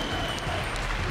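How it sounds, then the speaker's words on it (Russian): A crowd at an M-1 Challenge MMA event applauds the fighters after a bout, giving a steady, dense wash of clapping and crowd noise. "Наши аплодисменты всем участникам."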